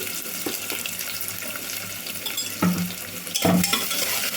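Chopped medium onion and curry leaves frying lightly in hot oil, a steady soft sizzle with a brief stir or clatter near the end, close and continuous with no talking.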